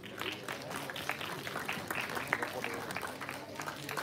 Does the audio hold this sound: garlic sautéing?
no